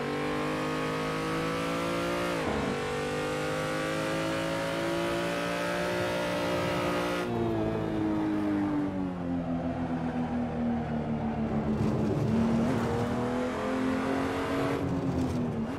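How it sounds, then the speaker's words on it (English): A BMW M235i Racing car's engine on the Nürburgring drones loud and steady in-car, its pitch dipping through a gear change, then rising and falling through corners without a break. "Should have probably downshifted in that turn, but you can tell Kurt can still make the turn"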